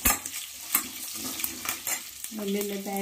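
Garlic cloves sizzle in hot oil for a tempering while making eggplant pachi pulusu. A spoon stirs against the pan with intermittent scrapes and clinks, and a steady frying hiss runs beneath, rising toward the end.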